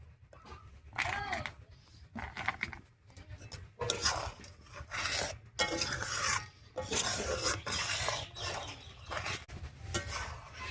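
Carrot payesh with fried cashews being stirred in a pot, spoon scraping and clinking against the metal in uneven bursts, close up with a low background hum.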